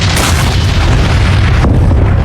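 The Mount Pelée volcanic eruption rendered as a sound effect: a massive, continuous low rumbling boom that fills the whole stretch at high loudness, with a slight shift in texture partway through.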